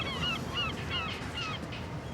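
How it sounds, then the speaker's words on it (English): Albatross giving a series of about four honking, goose-like cries at a steady, evenly spaced rhythm over a constant low background rumble. "That was an albatross."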